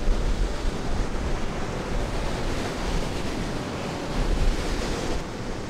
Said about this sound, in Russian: Ой, волны сегодня обалденные.